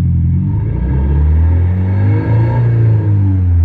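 A Renault Megane RS exhaust revved in one slightly long rev, a loud, close, deep rumble that swells and holds before easing back, with no talking.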